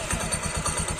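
A Honda Beat scooter engine runs steadily up close, a continuous low rumble with a faint rhythmic clatter, heard briefly with no talk.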